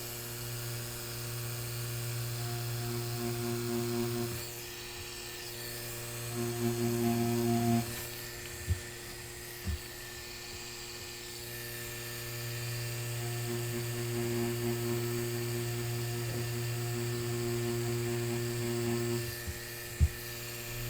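A tattoo machine fitted with a Magnum needle buzzes steadily with a low electric hum during realistic lion portrait work, its tone shifting slightly as it runs, with a few faint clicks and no talking.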